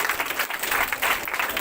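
An audience at a college Women's Day celebration applauds, a close, busy patter of many hands clapping continuously and fairly loudly with no talk.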